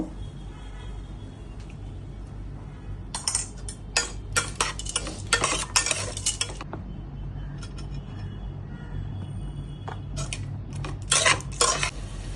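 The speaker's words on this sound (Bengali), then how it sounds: "লাউটা একটু ভাজা ভাজা করে নেব, একটু হলুদ দেব, নুন দেব" Bottle gourd fries with turmeric and salt in a pan, a metal spoon scraping and clattering in loud irregular bursts of stirring over a faint low sizzle.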